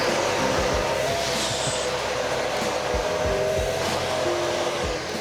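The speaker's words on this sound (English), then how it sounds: "This is boom arm hair dust extraction test number 1." A shop vacuum dust extractor pulls air through a boom arm pipe in a small woodworking shop, a loud, steady rushing roar that holds continuously without speech, with faint low thumps underneath.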